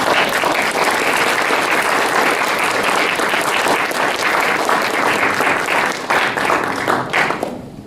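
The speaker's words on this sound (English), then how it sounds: "Let's have a round of applause then for" A business panel audience applauds, dense continuous clapping close and loud for about seven seconds before thinning out at the end.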